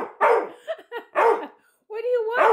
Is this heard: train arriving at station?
no